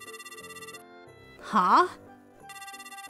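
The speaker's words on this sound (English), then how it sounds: "My phone rang" A phone ringtone plays a repeating electronic melody, then a voice briefly cuts in over it before the melodic ringing resumes, fairly close and clear.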